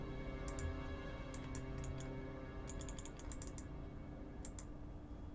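A computer mouse clicks while someone plays the Art of Murder point-and-click game: sharp, faint clicks come singly and in quick clusters over a low, steady hum, with no talk.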